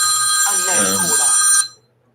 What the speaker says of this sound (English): What the hell is going on with this phone?